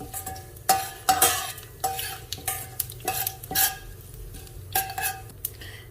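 Urad dal, mustard seeds and dried red chilies are stirred in hot oil in a pan for mixed vegetable upma, with a spoon scraping and clinking against the metal in repeated strokes over a steady sizzle.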